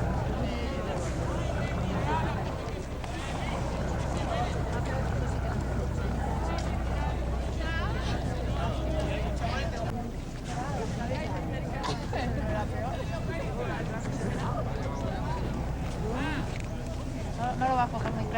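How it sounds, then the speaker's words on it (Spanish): Motorboat water bus in Venice on a foggy day, heard from inside the cabin: a steady low engine rumble with wind and water noise throughout, and voices talking over it. "estamos conectados en el interior de la lancha, en ese colectivo que nos llevará al centro de Venecia."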